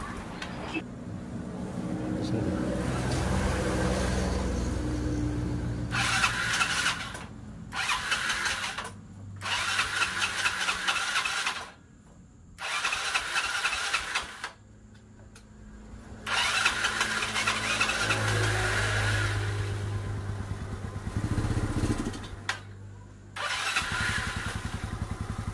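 A carbureted Yamaha Mio scooter engine, hard to start when cold, cranks and sputters several times with pauses, then catches and runs at a steady idle, close to the mic.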